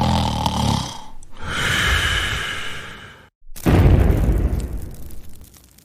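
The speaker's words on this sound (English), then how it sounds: "It's the sound of explosion coming from the town." A loud explosion bursts out from a town in a Civil War setting at Gettysburg, a sudden deep blast after a brief silence, followed by a sustained rumbling roar; earlier a muffled rushing boom rises and fades.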